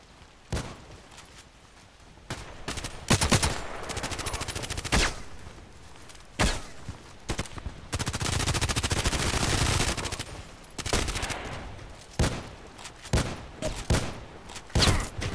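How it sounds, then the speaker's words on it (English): Bursts of enemy gunfire in the shooter game Contract Wars, with repeated sharp shots and rapid automatic volleys coming in clusters at close range and separated by short quieter gaps. "I knew there's somebody shooting at me"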